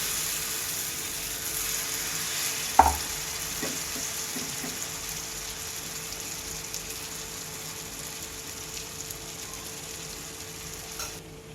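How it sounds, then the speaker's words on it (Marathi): Batter poured into a lightly oiled pan fries with a soft, even hiss, broken early by one sharp clink, then settling into a faint steady sizzle. "पॅनला थोडं तेल लावून घ्यायचं असं बॅटर टाकून घ्यायचं"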